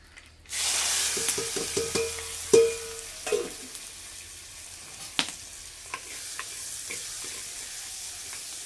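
Onion, tomato, ginger, garlic and green chilli frying in a pan after mustard seeds have popped, with a steady soft sizzle, a stirring spoon clinking and scraping at intervals, and no talking.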